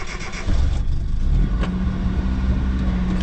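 A Nissan D21 truck engine idles while warming up, a low steady rumble with a brief rise in revs near the start, close and fairly loud.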